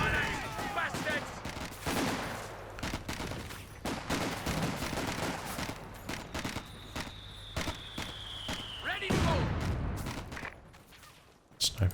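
Machine gun fire in the video game Company of Heroes 2 during a 1v1 match, dense rapid bursts and scattered gunshots throughout, loud and close, with a voice talking over the battle noise.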